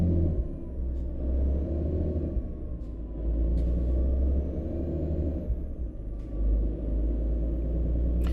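A heavy truck in American Truck Simulator drones under full throttle with a low steady engine rumble, steady and close, broken by a few short clicks and a brief dip as it shifts.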